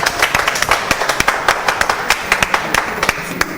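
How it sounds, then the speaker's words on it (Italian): An audience applauds for Roberto at a Neapolitan entertainment show, with sharp, dense hand claps that stay lively and continuous, close by and without talk. "Bravissimo Roberto, un grande applauso."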